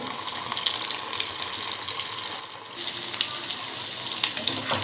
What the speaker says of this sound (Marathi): आपल्याला हे समोसे एक एक करून यामध्ये सोडायचे आहेत जेवढे बसतील तेवढे आपण समोसे सोडणार आहोत त्या तेलामध्ये